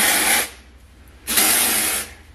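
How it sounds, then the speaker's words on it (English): Dry shampoo sprayed onto the roots of hair, heard as two loud, close hissing bursts, each about half a second, with a short quiet gap between them. "I just spray it in on my roots."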